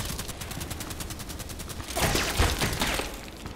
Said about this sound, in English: Why is he shooting at me?